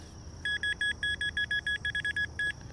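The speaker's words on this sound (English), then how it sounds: "All right, so I got another signal here" A Nokta Legend metal detector emits a quick run of about twelve short, bright electronic beeps in an uneven rhythm, loud over a low outdoor hum, with no talking.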